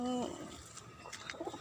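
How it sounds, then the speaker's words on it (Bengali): Pigeons coo on a rooftop garden, a short soft cooing call at the start followed by faint rustling and a few quiet bird notes, fairly distant and low in level. "এদিকে কবুতর আছে"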